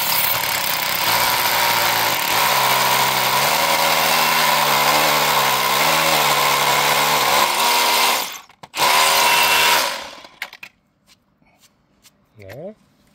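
Power drill running gently in hammer mode during assembly of a winter shelter on a van, a steady buzzing drone with rapid percussive texture lasting about eight seconds, a brief restart, then it winds down and stops.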